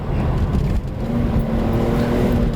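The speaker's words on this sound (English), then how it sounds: "You get some nice downshifts out of this thing as well." A BMW E46 M3 CS engine heard from inside the car, a loud, steady low droning rumble with a brief dip in revs partway through, consistent with a downshift.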